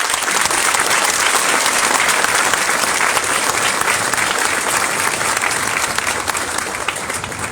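Loud, dense applause from a large outdoor crowd at a US Marine Corps recruit graduation ceremony in San Diego, honoring the families of Company F, a steady roar of clapping that fades slightly at the end.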